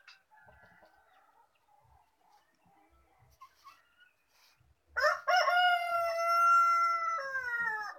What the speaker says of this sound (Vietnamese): sáng sớm con gà thi nhau gáy